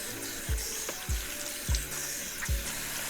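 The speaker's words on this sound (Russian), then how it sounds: "Теперь надо промыть капусту холодной водой" Cabbage leaves for homemade kimchi rinsed under cold running tap water: steady splashing hiss broken by four evenly spaced, soft low thumps, close by and moderately quiet.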